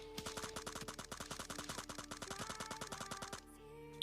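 An M4 rifle fires in a battle royale video game, a rapid steady stream of shots that stops abruptly, heard faint and close through the game mix.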